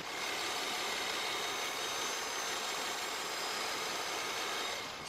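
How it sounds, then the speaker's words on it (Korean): A smooth, quiet Nissan V6 engine in a 2017 large sedan idles steadily with an even broadband hum and no revving, heard up close. "바로 엔진 소리 한번 들려드릴게요"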